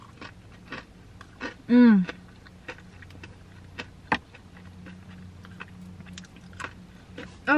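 Someone bites into an extra crispy KFC fried chicken piece with a sharp, close crunch, then chews softly in scattered clicks and smacks, with a brief hum of appreciation.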